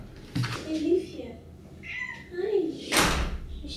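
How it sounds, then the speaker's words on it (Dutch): A cat meows a couple of times nearby, mixed with a person talking and a brief knock or thump. "Oh, ik hoor Poesie weer."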